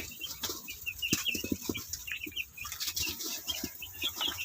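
Broiler chicks in a pen of about a hundred birds scuffle and flap their wings in rapid, busy bursts, with faint cheeping mixed in throughout.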